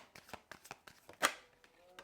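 Tarot cards are shuffled in quick riffling bursts, close and soft, with one sharper snap partway through.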